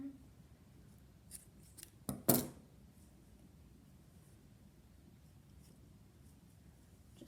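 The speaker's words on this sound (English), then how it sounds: "cut and tie off your yarn" Scissors snip through crochet yarn in two or three quick, close cuts, with quiet handling noise before and after.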